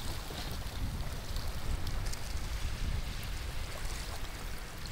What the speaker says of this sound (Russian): Волночки плещутся.